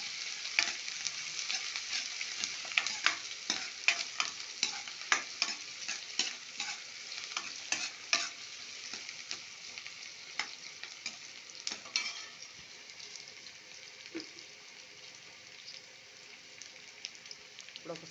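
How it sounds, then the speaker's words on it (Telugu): Onions fry in a few spoons of oil in a pan for a drumstick and tomato curry, a close crackling sizzle broken by frequent scraping stir strokes, busier early and growing calmer and quieter later. "ఉల్లిపాయలు బాగా వేగాలి ఫస్ట్."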